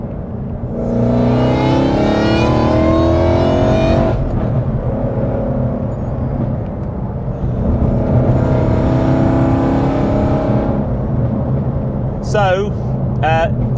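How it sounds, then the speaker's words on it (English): An 862bhp supercharged Mustang GT road car revs hard, loud and close, its engine note sweeping up and down in pitch over several seconds while people talk inside the car. "definitely the loudest road car that I've driven"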